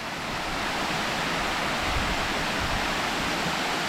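A tiered waterfall at Tat Kon in Xon district, Houaphanh, cascading down in steps, giving a steady, dense rush of falling water that stays loud and even throughout, with no voices.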